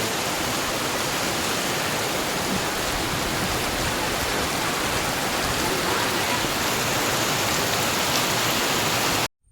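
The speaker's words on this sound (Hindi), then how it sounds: "तो देखा आपने कितनी भयंकर वाली बारिश हुई थी" Heavy rain pours down in a loud, dense, unbroken roar of water hitting surfaces nearby, lasting steadily until it cuts off abruptly at the very end, with no voices.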